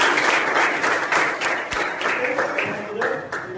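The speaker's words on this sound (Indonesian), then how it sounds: "berikan tepuk tangan buat teman-teman" A short burst of group applause, many hands clapping close by, fading toward the end as voices begin talking over it.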